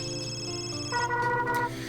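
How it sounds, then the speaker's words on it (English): A telephone rings inside the Custom Robo video game, a steady electronic ringtone with layered tonal chimes that shift pitch partway through and then carry on, playing clearly without any voices. "Hold on, it's the phone."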